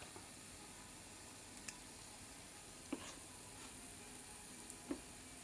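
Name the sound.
bondalu fritters frying in oil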